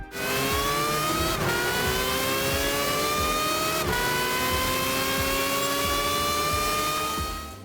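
Honda HSV GT500 race car in Gran Turismo, its engine screaming loud and sustained at high revs, with rising pitch sweeps broken by two sharp upshifts that drop the tone before it climbs again.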